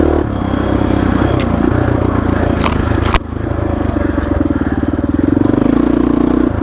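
A Honda XR650R dirt bike's big single-cylinder engine thumps and revs steadily up close while riding a flowy trail, with a sharp clatter partway through.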